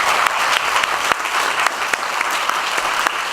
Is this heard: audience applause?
yes